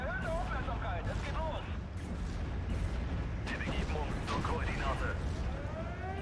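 Artillery fire in Steel Division: Normandy 44, shelling an anti-tank gun: repeated thudding impacts and rumbling booms run under continuous battle noise while someone talks over it.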